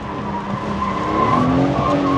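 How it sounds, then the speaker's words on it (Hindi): A car spins its rear tires while drifting in donuts, loud tire squeal with whining engine tones rising and wavering over about two seconds, close and continuous. "पिछले टायर स्पिन करना शुरू हो तो जिस तरफ डोनट करने हैं वो करें और ड्रिफ्ट स्टार्ट है"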